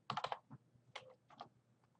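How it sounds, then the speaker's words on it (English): An email address being typed on a computer keyboard: a quick burst of close, quiet keystrokes followed by a few scattered taps in a hushed room. "All that you'd have to do is you type in their email address."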